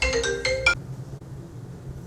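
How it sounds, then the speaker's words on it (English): A mobile phone rings for an incoming call, playing a short melodic ringtone of several bright chiming notes that stops abruptly after under a second, leaving quiet room tone. "She made another video of a suspicious phone call on her dad's phone while filming."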